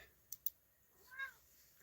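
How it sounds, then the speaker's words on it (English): A cat gives one short, faint meow after two quick clicks, heard in a quiet indoor room during a basement livestream. "My cat says hello to you guys."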